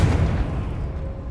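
Confringo explosive spell going off in Hogwarts Legacy, a deep booming blast that fades over about a second, loud and low with no talk.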